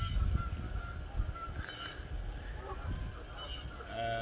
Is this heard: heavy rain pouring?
no